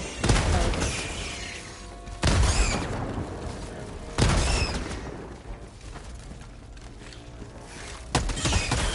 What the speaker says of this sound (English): I like that you can hear the gunshots off the distance, though.